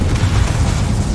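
The Confringo explosion spell in the Hogwarts Legacy video game lands as a brief, dense boom that fills the short moment with rumbling noise.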